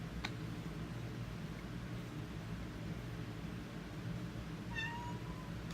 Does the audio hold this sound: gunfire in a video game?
no